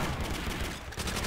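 Thompson submachine gun firing in the video game Call of Duty: World at War, a loud dense burst of rapid automatic shots with a brief dip near the end, close and without talk.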